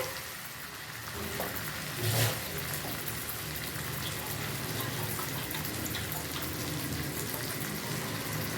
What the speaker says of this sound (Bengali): এবার আমি এখানে জল দিয়ে দেবো